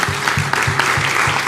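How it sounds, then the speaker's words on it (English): Audience applause for the sponsors at an afternoon dialogue event in Memphis: a steady, continuous round of clapping with a faintly rhythmic, pulsing beat, fairly loud and without speech. "If we can give them a round of applause."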